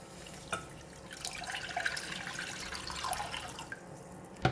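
Water pours steadily into a cooking pot at a home stove while a simple noodle soup is made, a soft continuous splashing stream with a few drip-like clinks, close but quiet, no talking.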